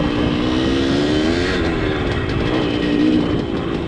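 Engine of a Bridgestone TMX 100 motorcycle idling and running at first start, a steady close rumble with slight pitch wavering and a faint rise near the end, no talking.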